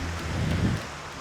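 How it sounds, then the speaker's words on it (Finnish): Strong wind blows outdoors on an island in Päijänne National Park, a steady close roar buffeting the microphone, with rushing wave noise from the lake beneath it. "Täällä on tuuli yltynyt aivan sairaasti."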